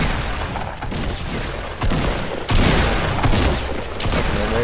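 Fortnite gunfire crackles in rapid close bursts, loud and dense, with heavier booming shots breaking in partway through.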